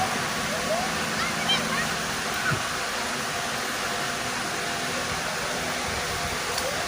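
Steady broadband rush of a river flowing fills the whole stretch, continuous and even, with faint background activity of children playing along the bank underneath.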